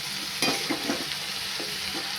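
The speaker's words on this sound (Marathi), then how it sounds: "भाजी टाकून झाली ना की व्यवस्थित ढवळून घ्यायचं" Dal, onion, garlic and wild greens are stirred in a frying pan: a close, steady sizzle broken by a few quick spoon scrapes.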